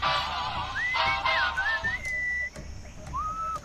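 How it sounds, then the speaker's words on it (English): A melodic whistled tune in the Sam & Max video game, clear sliding and wavering notes in short phrases over a soft musical background. "What is that enchanting whistling sound?"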